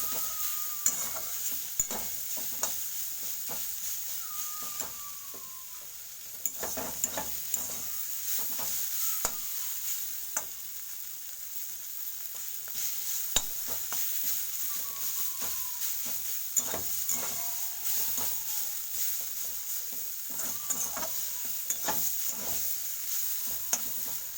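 Ghetkol leaves fry in a pan with a constant soft sizzle, while a utensil stirs and scrapes at irregular intervals, close and fairly quiet with no talk.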